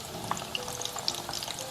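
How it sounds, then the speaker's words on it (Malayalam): Five beetroot cutlets frying in hot oil, a steady close crackling sizzle dotted with sharp little pops and spits. "ഞാൻ ഇതൊരു 5 വീതമാണ് ഇട്ട് വറുത്തെടുക്കുന്നത്"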